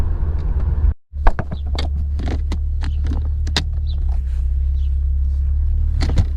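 An Infiniti G37 sedan with aluminum crank and alternator pulleys pulls back onto the road during a test drive, a low steady cabin rumble after a brief thump and dropout, with small clicks and rattles over it.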